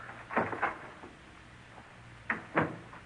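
A creaking door opens as a sound effect in an old-time radio drama, with two short bursts early on, a quiet pause, then two more sharp knocks or creaks, fairly faint.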